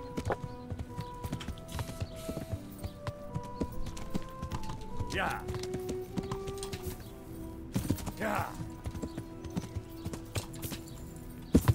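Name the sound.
horse hooves clip-clopping in the video game Kingdom Come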